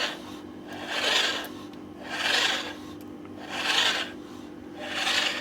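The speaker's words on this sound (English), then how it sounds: "that's not a happy noise from a motor" A Suntour HESC CAN e-bike hub motor with a fault gives a harsh, rasping grind that swells and fades in four even cycles, steady and close, with a low hum beneath and no voices.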